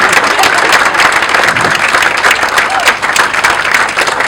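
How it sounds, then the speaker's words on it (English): A crowd at an international polo day at Windsor applauds steadily for Renu Singh as she walks up, a dense sustained clapping close by, with faint voices mixed in. "Keep clapping, it's a long walk."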